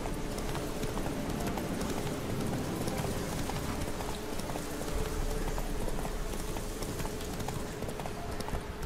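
Horse hooves clip-clop steadily in The Witcher 3, a continuous rhythmic trotting that stays loud and close for the whole stretch, with a faint voice now and then underneath.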